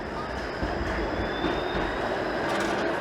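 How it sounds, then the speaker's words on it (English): A Toronto streetcar approaches on a city street, a steady rumbling roar of rail noise with a faint high squeal, fairly loud and continuous. "I'm gonna wait for the streetcar, which is on the way."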